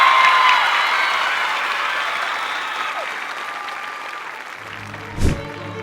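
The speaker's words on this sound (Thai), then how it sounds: "ขอเสียงปรบมือให้กับนักเอก" Audience applause on a Thai celebrity competition show, a dense, steady wash of clapping that fades gradually over several seconds before a brief thump near the end.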